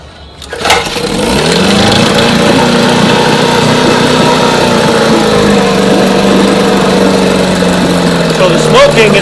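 An outboard motor with a misfiring cylinder is started and keeps running, settling into a steady, loud, slightly uneven drone after a short cranking burst at the start.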